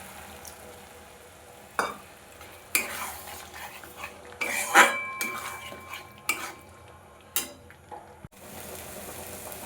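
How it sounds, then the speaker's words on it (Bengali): Prawn malai curry masala with coconut milk being sautéed in a pan, a spatula scraping and knocking against the metal in irregular strokes over a low sizzle, fairly close with no talk. "একটু নারকেলের দুধ দিয়ে দেবো দিয়ে খুব ভালোভাবে কষাবো"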